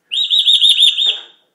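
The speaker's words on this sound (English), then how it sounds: "Bird, bird, bird, bird. Sing, Lion." A pet bird sings on command, giving one clear warbling whistled phrase of about a second, loud and close in a quiet room.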